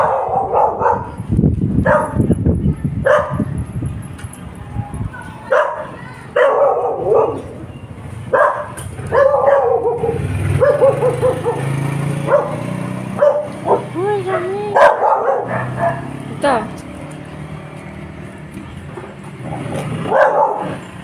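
Dogs bark repeatedly in sharp bursts on a late-night walk, some yips among them, interspersed with a person talking to the dogs.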